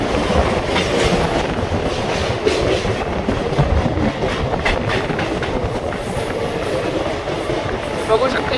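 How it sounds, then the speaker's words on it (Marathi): A Mumbai Dadar local train runs fast with a loud, continuous rumble, rhythmic wheel clatter and some squealing, heard from on board. Voices come through faintly under the noise. "आता काय वेग घेते ही ट्रेन आणि स्पीड पण खूप पकडते फास्ट मध्ये"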